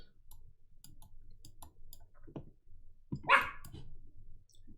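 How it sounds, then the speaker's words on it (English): A dog barks at the door indoors, giving a few short, fairly loud barks with a quiet ticking sound in the background and no talking. "You barking at the door?"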